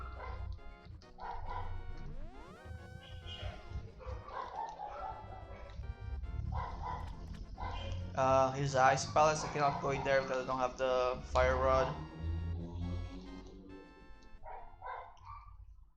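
A dog barks and whines repeatedly in a room, with yelping calls under someone talking over gameplay of a Zelda A Link to the Past randomizer, with game music and effects mixed in.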